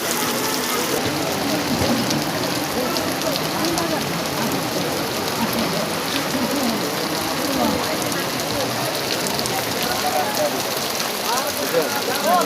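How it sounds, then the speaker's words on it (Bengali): Rain falls continuously in Chandpur during a storm with a dense, even hiss, while faint voices murmur now and then in the distance. "খুব সুন্দর বৃষ্টি"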